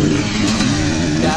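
A dirt bike roars past during a harescramble race at Prairie City, its engine a loud, steady, close-up drone that holds for the whole moment with no break.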